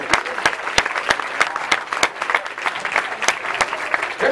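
Audience at a senior all-night party hypnotist show applauds steadily, with crisp, rhythmic nearby claps standing out over a wash of crowd clapping that continues for several seconds.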